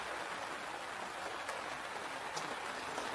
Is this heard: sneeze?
no